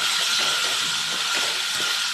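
Water added to a pan of frying potatoes and arbi (taro root), giving a loud, steady sizzling hiss throughout with faint bubbling beneath.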